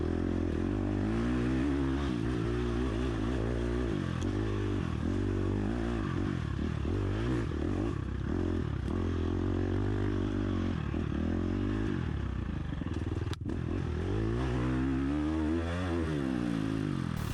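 A dirt bike tears through a wooded sprint enduro course, its engine revving hard and constantly as it shifts and surges, heard up close from the rider's position with the odd clatter over rough ground.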